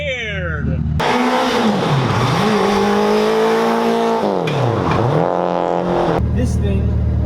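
A Suzuki Swift with a swapped Hayabusa motorcycle engine fires up after a push-button start, then revs loudly and sharply, its pitch climbing and dropping in two big sweeps before settling near the end.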